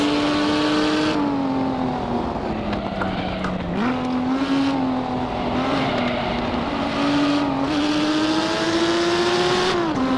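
A Lamborghini Miura P400SV in the racing game Assetto Corsa holds a loud, steady engine drone that rises and dips slightly with the throttle, the pitch wavering over several seconds before climbing again.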